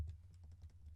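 Quick burst of keystrokes on a computer keyboard while entering a word into a Photoshop text box, several close, light clicks in a rapid run with no talking.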